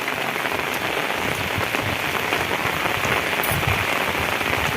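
Rain drumming on an umbrella carried outdoors by two people walking, a dense, close, even patter that continues without break.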